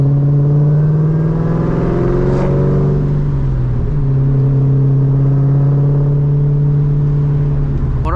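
Mustang Terminator Cobra with a Borla Stinger exhaust revving loudly nearby, a deep steady idle rumble rising into a brief rev and settling back, continuous throughout.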